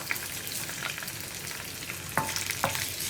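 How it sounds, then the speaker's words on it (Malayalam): Washed raisins frying in hot sesame oil for pickle, a close, busy crackling sizzle with two distinct spoon knocks against the pan near the end. "എണ്ണ ചൂടായി തുടങ്ങുമ്പോൾ നമ്മൾ കഴുകി വൃത്തിയാക്കി വെച്ചിരിക്കുന്ന നമ്മുടെ മുന്തിരി എണ്ണയിലേക്ക് ചേർത്ത് കൊടുക്കാം"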